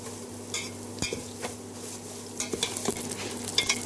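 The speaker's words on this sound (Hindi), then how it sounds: "अब इसे हम अच्छे से तलेंगे जब तक ये गोल्डन ब्राउन नहीं हो जाते।" Vermicelli and raisins fry in a pan for a sweet Eid seviyan dish, a soft steady sizzle under intermittent stirring clinks and scrapes, no talking.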